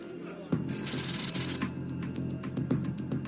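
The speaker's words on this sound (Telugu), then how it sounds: "ఫోన్ రింగ్ అవుతుంది, తీయండి." A telephone rings with a bright, repeating electronic trill for about a second, fairly close, amid some background clatter.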